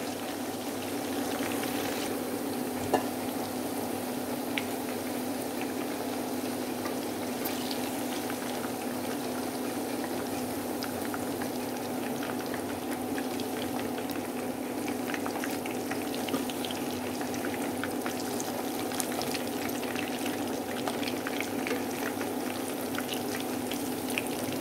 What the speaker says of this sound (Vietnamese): Mấy miếng này mình phải chiên thêm.